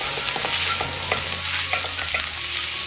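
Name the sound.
stirring ginger-garlic frying in a pan over medium flame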